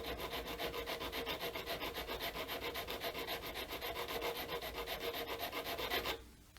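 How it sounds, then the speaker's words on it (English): Steady rhythmic rubbing of a sanding block across a handmade guitar nut, close and even strokes repeating for about six seconds before stopping abruptly. "sand that down a little bit"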